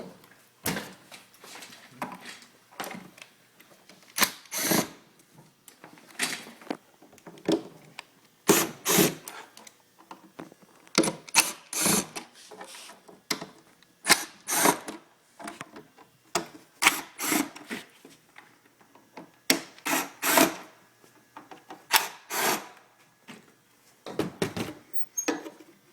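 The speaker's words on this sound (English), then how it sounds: "Unscrew all the screws around the outside of the cover." A Phillips screwdriver backing out the screws on a Solowheel's outer cover, heard as repeated close creaks and scraping twists in irregular bursts, with short pauses between screws.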